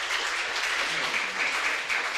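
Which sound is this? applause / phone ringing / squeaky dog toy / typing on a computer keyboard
applause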